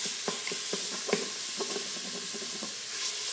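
An onion browning on a pressure cooker's sear function crackles and sizzles steadily, broken by repeated scraping knocks as it is stirred, up close with no voices.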